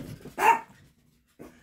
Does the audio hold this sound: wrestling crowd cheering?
no